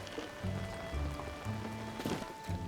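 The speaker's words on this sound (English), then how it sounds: "It's seriously raining." Rain patters steadily in The Legend of Zelda: Tears of the Kingdom, a soft, even hiss of falling drops beneath intermittent low game tones and footfalls, moderately loud throughout.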